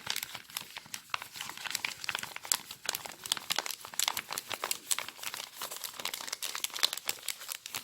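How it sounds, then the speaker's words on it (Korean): Springy paper being rolled up tightly by hand to make a ring-size mandrel for silver clay ring making, a steady run of close, dense crinkling and rustling with no talk. "종이 좀 탄력이 있는 종이로 이렇게 돌돌 마세요"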